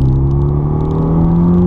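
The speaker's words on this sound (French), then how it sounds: "Vous entendez le doux moteur de cette voiture." A Renault Megane 2 RS engine hums with a steady, loud, close rumble as the car drives along a small road, holding an even tone with no voices.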